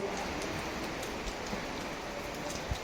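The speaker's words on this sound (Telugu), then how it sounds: "వాన వాన వాన ఏంది ఫ్రెండ్స్ ఈ వాన విరక్తి పుడుతుంది" Steady rain falls outdoors in a village, a dense even hiss of drops with a few sharper patters and splashes on nearby surfaces, continuous throughout.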